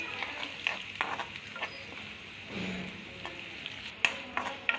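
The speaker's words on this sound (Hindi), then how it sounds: "मीडियम फ्लेम पर हम उसको थोड़ी देर भूनेंगे" Crushed chili chutney frying over a medium flame, a steady soft sizzle with intermittent stirring scrapes and ticks, close and moderately quiet with no talking.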